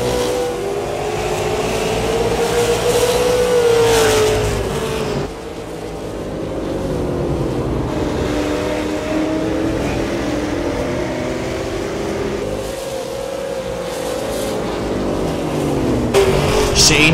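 Super late model race cars roaring around Five Flags Speedway, loud engines revving and droning continuously as cars pass, with rising and falling pitch and sustained crowd-level noise throughout.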